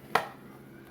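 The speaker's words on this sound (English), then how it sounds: "I usually take my knife and I scrape off the excess" A knife blade scrapes across a measuring spoon to level off excess salt, one short, crisp scrape standing alone against quiet room tone.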